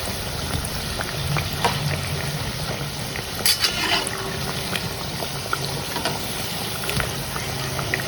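Crispy multigrain thaval vadai fritters frying in hot oil over medium flame, a soft continuous bubbling sizzle with scattered small pops and crackles, steady and moderately close with no talking.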